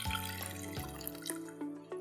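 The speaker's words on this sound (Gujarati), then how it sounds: "એક ગ્લાસ જેટલું પાણી એડ કરી દઈશું." A glass of water poured into a pan of cooked spices, a close, quiet splashing pour lasting about two seconds with a few drips.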